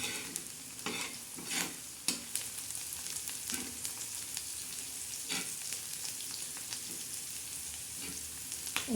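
Chopped onion stirred and fried in a pan until deep brown, its soft continuous sizzle broken by irregular spoon scrapes and clinks against the pan, close and moderately quiet.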